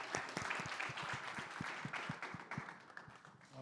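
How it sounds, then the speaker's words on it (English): Applause from an audience at a Texas food event honoring a James Beard Best Chef winner, steady clapping filling the whole stretch at moderate volume with no talking. "Big round of applause for Annalise Pulido"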